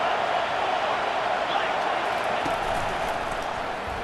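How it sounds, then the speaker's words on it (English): Loud stadium crowd roar in EA Sports College Football 25 swells steadily as the home fans try to rattle the offense, a dense continuous wash of noise with no clear breaks. "It is getting loud as this crowd tries to help its defense."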